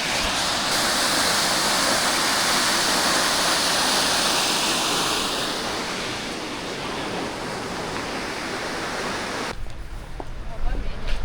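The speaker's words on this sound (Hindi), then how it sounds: "यहाँ पे वाटरफॉल चल रहा है" A waterfall in a Paris park gives a loud, continuous rushing roar that eases slightly midway, and a voice speaks briefly near the end.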